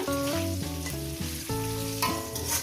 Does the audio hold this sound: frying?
yes